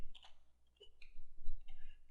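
Several light, irregular key clicks from typing on a computer keyboard while entering a name into a web form, close and fairly quiet, with brief pauses between bursts.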